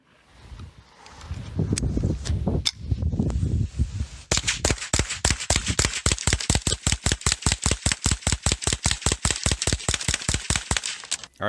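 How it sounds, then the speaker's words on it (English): Rapid semi-automatic gunshots from a gun fitted with a new trigger kit ring out at an outdoor range, a few scattered shots giving way to a long, fast, evenly spaced string of loud reports. "I'm going to head to the range and show you guys some shooting footage with this thing."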